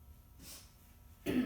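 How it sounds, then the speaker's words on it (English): A man in a math classroom lecture clears his throat, a single short rough burst near the end after a quiet pause. "And clear my throat."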